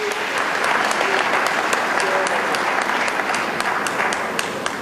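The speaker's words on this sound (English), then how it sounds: "Let's give them a big round of applause." Audience applause at a live memorial event for jazz singer Thandi Klaasen: a steady, dense wash of many hands clapping close by, continuous and even for the whole stretch.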